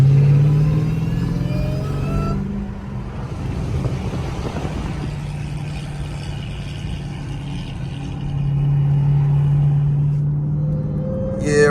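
Engines of a Jeep Trackhawk and a Hellcat on a Miami Beach street drive, a loud, sustained rumbling roar that swells and eases as the throttle changes, close by and continuous with no clear speech.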